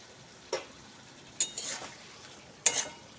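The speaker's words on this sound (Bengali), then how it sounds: "মশলাগুলোকে আমি আলুর সঙ্গে আবারও খুব ভালো করে কষিয়ে নেব।" Potatoes and spices, including turmeric and Kashmiri chilli powder, are stir-fried in a pan for a ridge gourd, potato and prawn curry, with three sharp spoon scrapes over a faint background sizzle.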